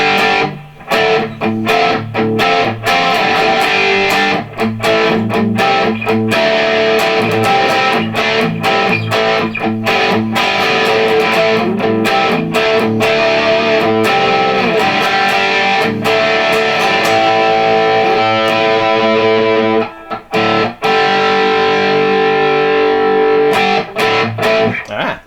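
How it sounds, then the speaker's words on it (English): Distorted electric guitar played through a Boss Katana MkII amp with Governor distortion, a dense, loud run of riffs and chords that keeps going for the whole stretch with only a brief gap near the end. "And this is with that governor distortion."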